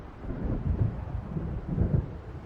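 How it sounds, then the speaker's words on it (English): Distant thunder from an approaching storm in the game Alan Wake, a low continuous rumble with two heavier swells, muffled and far off, with no voices. "It seems there's a storm coming."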